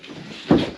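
The rear double door of a 2021 Ram Promaster City van makes a single short, muffled thud as it closes, close by and fairly loud.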